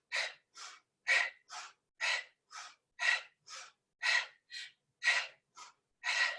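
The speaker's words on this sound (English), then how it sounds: "Inhale, exhale. Inhale, exhale." Rapid, rhythmic breathing during a breath exercise, close and clear, with sharp paired inhales and exhales repeating about twice per second with no speech.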